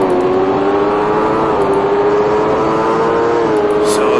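An IndyCar race car engine in the IndyCar Racing II video game holds a loud, continuous high-revving drone with a steady pitch throughout.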